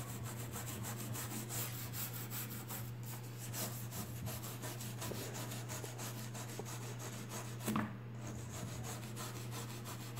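A cloth rubs wooden furniture clean with vinegar in continuous close scrubbing strokes over a steady low hum, with a brief louder scuff near the end and no talking.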